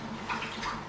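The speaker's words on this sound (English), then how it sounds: "I'll wet my hands again" Hands being wetted under running water while stuffing sausages, a soft continuous splash and trickle at close range with no talking.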